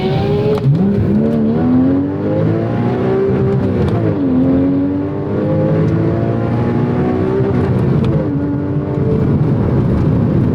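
A Porsche 981 Cayman engine climbs and falls through the revs as the car accelerates out of corners, loud and close with rising pitch sweeps and brief dips between pulls.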